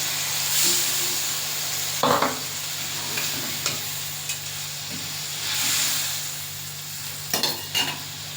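Fish being added to a pan of fried spice paste for a village-style Bengali fish curry and stirred, with a spoon scraping and clinking against the pan over a steady background sizzle and hiss.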